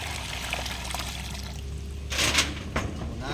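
Water pours and splashes in short bursts at an outdoor tap or container, with a steady trickling background and two louder gushes toward the end, close by and with no talk.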